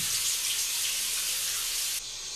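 Shower water running in the shower scene of the film Psycho: a continuous, loud hissing spray throughout that drops slightly in level near the end, with no voices.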